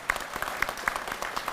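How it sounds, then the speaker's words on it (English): Crowd applauding veterans at an announcement of the Chillicothe paper mill sale, a fairly faint, brief burst of scattered clapping with distinct individual claps standing out. "Let's give them a round of applause"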